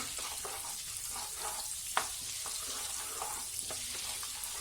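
Cumin seeds sizzle steadily in hot oil in a pan for tawa pulao, a quiet continuous frying hiss broken by a few light clicks and one sharper tap.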